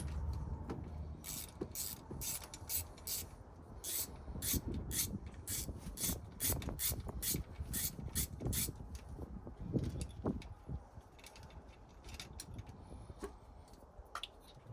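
Rapid metallic ratcheting as a 10mm ratchet tightens a bolt on a Jeep Cherokee XJ during a four-hole injector swap, repeated clicking bursts through most of the stretch with some clunks and rubbing of tools close by.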